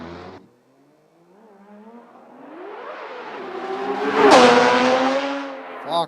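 A Porsche engine revs nearby in a single long climb, rising in pitch and loudness to a sharp peak, then easing off before a brief click at the end.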